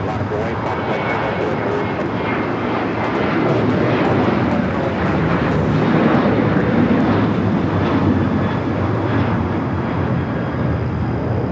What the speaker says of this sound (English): Air New Zealand heading back to Auckland